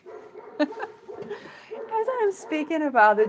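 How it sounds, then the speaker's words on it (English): A dog barks intermittently somewhere in the background while a person talks steadily over it, the barks partly masked by the voice. "some dog began to bark"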